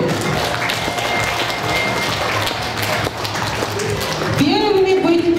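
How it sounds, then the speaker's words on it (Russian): Applause sees children off at a fourth-grade school farewell ceremony, steady clapping from an audience for several seconds, then music or a voice rises over it toward the end. "Провожаем ребят также аплодисментами."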